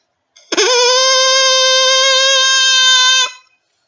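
A flattened drinking straw blown like an oboe's double reed gives one loud, steady buzzing tone about three seconds long, bright and rich in overtones, with a squeaky onset and a clean stop.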